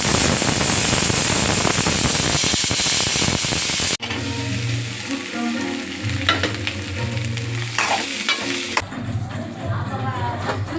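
Bajji batter fries in hot oil, a loud, dense sizzle at first, then bubbling and crackling with metallic ladle and clatter sounds, close and continuous.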